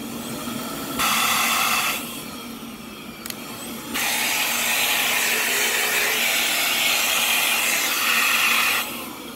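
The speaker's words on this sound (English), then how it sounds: "brush works, vacuum is functional, just clogged" A clogged vacuum cleaner runs during a function test, its motor whining and hissing in bursts: a short run, a pause with a click, then a longer steady roar before cutting off.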